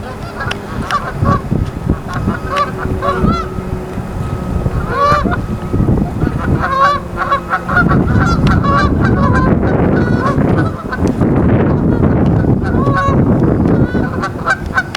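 Waterfowl honk in a dense, overlapping chorus beside water in a Canadian outdoor setting, loud and close, with calls repeating throughout and no talk.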